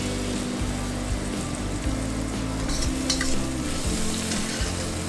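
Cabbage stir-frying in a hot wok for sweet and sour cabbage: a loud, continuous sizzle with a constant low hum underneath and occasional scraping as the pieces are tossed, close up with no talk.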